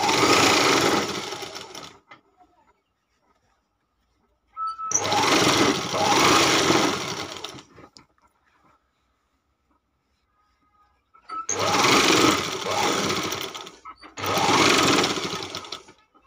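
Sewing machine stitching a 2-inch border onto a cover for an old quilt, running in three loud bursts of steady whirring separated by quiet pauses, the last burst split in two.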